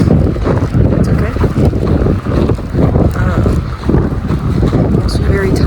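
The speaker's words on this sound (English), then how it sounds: "snow is like blowing in my face" Snowstorm wind gusting hard and buffeting close to the microphone in a steady rough roar, with a voice speaking faintly beneath it.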